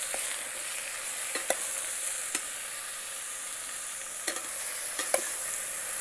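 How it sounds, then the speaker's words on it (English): Chayote and tomato being stirred in a pan with red chili flakes and cumin, a soft continuous sizzle under a few sharp spoon scrapes and clicks against the pan. "Mix well with the red chili flakes and cumin."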